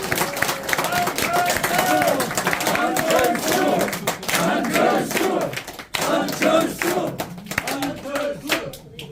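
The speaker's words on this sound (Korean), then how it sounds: "안철수 의원님을 큰 박수로 모시겠습니다." A crowd at a Korean political party camp event applauds and cheers to welcome a speaker, dense continuous clapping and voices filling the hall at close range.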